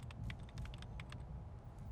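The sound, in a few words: keyboard typing sounds in video game Fallout New Vegas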